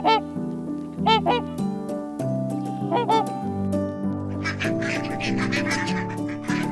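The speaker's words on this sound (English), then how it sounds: "Swan" A swan gives repeated honking calls, a few loud nasal bursts in an irregular sequence, with a background of layered tonal bird-like notes and some chirping toward the end.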